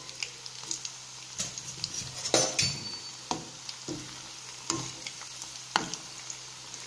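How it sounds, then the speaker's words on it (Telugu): Onion samosas deep frying in oil over medium heat, a soft steady sizzle broken by sharp metallic clinks and scrapes of a utensil stirring in the pan, close and moderately quiet. "ఇప్పుడు వీటిని డీప్ ఫ్రై చేసుకుందాం."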